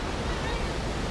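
A waterfall on a forest hiking trail roars as a steady, dense rush of falling water, loud and continuous without a break.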